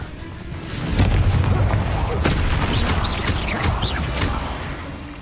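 Confringo fire spell explosions in Hogwarts Legacy, heard as a dense run of booming blasts and crackling impacts that keeps going for several seconds, loud and close.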